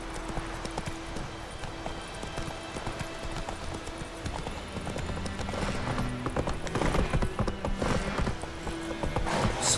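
Horse hooves clip-clopping in The Witcher video game, a steady rhythmic trot of hoofbeats that grows slightly louder, mixed with creaking tack and background game noise.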